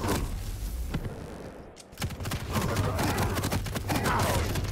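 Heavy machine gun fire in a Quake match, a dense stream of rapid shots running over most of the clip after a brief lull. The fire is loud and continuous, and nobody talks.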